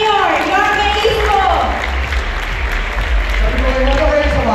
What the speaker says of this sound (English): Another round of applause sa our mayor, Jorge Isko.